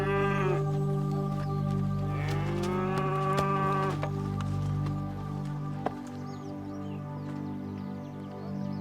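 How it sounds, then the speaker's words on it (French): A cow moos several times at close range, long drawn-out lowing calls over a steady low background hum. "Je t'ai ramené ta vache."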